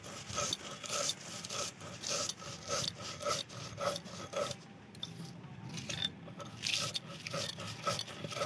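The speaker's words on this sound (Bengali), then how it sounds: "মশলাগুলো শিলে ভালো করে আমি পেস্ট করে নেব।" Roasted spices for a tangy-sweet jujube pickle are ground into paste on a stone slab, giving close, rhythmic rasping strokes that scrape back and forth steadily with brief pauses.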